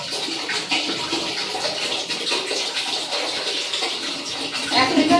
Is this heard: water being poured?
yes